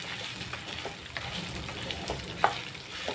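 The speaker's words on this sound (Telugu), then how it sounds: "ఎండుమిరపకాయలు ఇవి బాగా వేగిన తర్వాత" Dried red chillies fry in hot oil for a ginger chutney, making a continuous soft crackling sizzle with one brief louder pop near the end and no speech.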